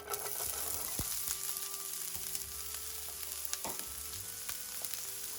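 Onions sizzling and frying in hot olive oil in a skillet over medium-high heat, a steady close crackle with occasional clinks of a utensil stirring.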